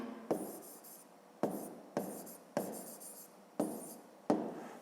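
Handwriting on paper with a pen during a maths exercise: six or so quick, close scratching strokes, each starting sharply and fading, spaced at a steady, unhurried rhythm with no voices.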